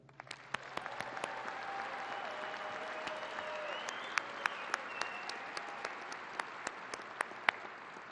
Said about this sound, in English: please join me again in a round of applause for our servicemen and women